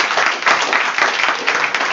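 Close, loud applause for the speakers after a talk, a dense burst of many hands clapping steadily at an even pace from start to finish.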